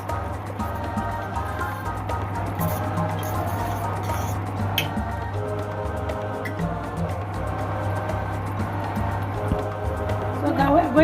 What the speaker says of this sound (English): I'll stir it.